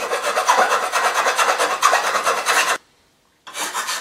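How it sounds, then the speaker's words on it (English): Close, loud rasping of a hand file cleaning up drilled and tapped holes in metal parts for a custom Yamaha Radian motorcycle build, steady strokes for nearly three seconds, a short silence, then filing resumes. "I want to file the holes"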